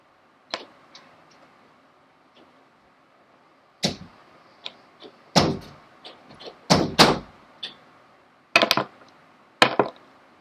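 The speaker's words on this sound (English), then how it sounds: "You pull the door closed for me, please?" Several sharp knocks and clunks in a quiet room as a door is pulled closed, spaced irregularly with a few louder bangs clustered toward the end.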